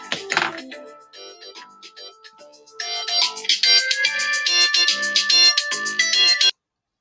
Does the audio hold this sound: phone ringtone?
yes